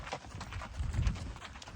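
Hooves clip-clop on the ground during a cattle drive, a soft, steady stride heard fairly close with low thuds under the clatter.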